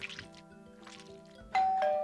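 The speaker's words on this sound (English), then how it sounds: "Soon the doorbell rang again." A two-tone chime sounds softly beneath low background murmur and hum, like a doorbell ringing indoors.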